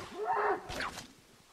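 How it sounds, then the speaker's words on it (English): Strikes and swishes land on a cow in the video game Assassin's Creed 3: a drawn-out, lowing animal cry followed by a quick whooshing hit, all brief and fairly close. "Am I just attacking this poor cow for nothing?"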